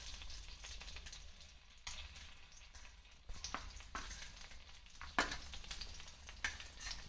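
Finely chopped green chillies frying in ghee in a pan, a quiet, steady crackling sizzle with sharper spits now and then, faint and close, no voices.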